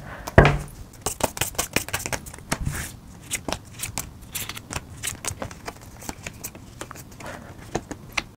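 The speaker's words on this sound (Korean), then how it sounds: "한번 추가 카드 뽑아보도록 할게요." Tarot cards being shuffled and drawn for a love reading: a run of quick, crisp papery flicks and taps, close and fairly quiet, with a sharper snap near the start and no talking.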